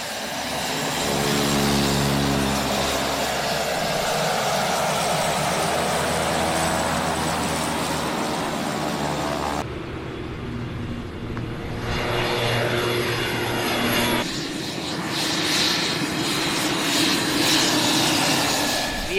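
An airplane descends to land at St. Barts airport, a steady loud engine drone with a low propeller hum running throughout, its tone shifting partway through as the approach continues.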